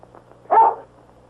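A single dog bark from a 1947 Western film, one short sharp woof out of near silence, with faint low hum behind it.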